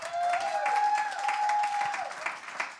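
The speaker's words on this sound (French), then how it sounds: "Bravo, on applaudit Simon." An audience applauds a guest named Simon at a live comedy talk show, a steady loud wash of clapping that lasts the whole moment with a thin whistled tone riding over it.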